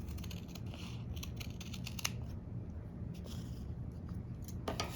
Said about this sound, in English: cut using a pair of nice sharp scissors